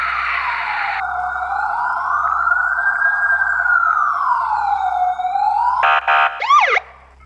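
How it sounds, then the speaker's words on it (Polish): A police car siren wails loud and close, a long rising and falling tone that sweeps slowly up and down, then breaks into rapid yelping bursts near the end before cutting off. "Chyba słyszę radiowóz."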